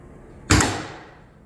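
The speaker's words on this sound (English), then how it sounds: "These doors open really easily." A single solid thump of a 1963 Toyota FJ40 Land Cruiser door closing, sharp and close, followed by a short fading ring in an otherwise quiet space.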